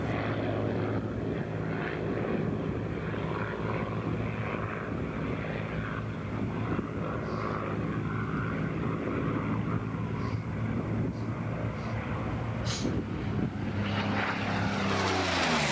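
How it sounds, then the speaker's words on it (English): A Curtiss P-40 Warhawk propeller fighter plane drones steadily, its engine a continuous rumbling roar that rises into a whine near the end. "the standard Army fighter was the Curtiss P-40 Warhawk, a tough, versatile aircraft"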